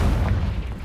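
A Confringo fire spell explodes in Hogwarts Legacy: a single loud, close, low rumbling boom that fills the whole short moment and then slowly fades, with no talk over it.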